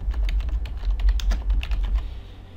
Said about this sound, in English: type in control panel